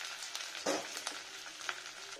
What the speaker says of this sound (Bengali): আদা বাটাটা ফ্রাই হবে।